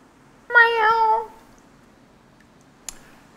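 A single drawn-out meow from the cat in the video game Stray. It is clear and close against near silence, and a brief faint tick follows about a second and a half later.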